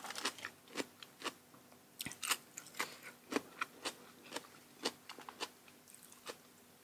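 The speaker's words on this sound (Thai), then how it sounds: "มะระแช่เย็นจ้ะกรอบๆ" Crisp bites and crunchy chewing of chilled bitter gourd sound close and fairly quiet, with irregular sharp crunches repeating every half second or so.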